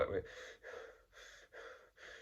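Breathing in through the nose, heard as five soft, quick breaths in a steady rhythm, close by and quiet, with no talk over them.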